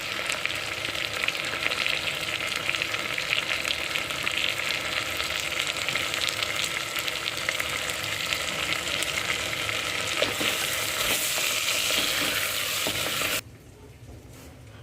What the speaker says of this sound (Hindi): अदरक लहसुन का पेस्ट डाल देंगे 1 टेबलस्पून, और कम सेक पे ही 2 से 3 मिनट तक भूनेंगे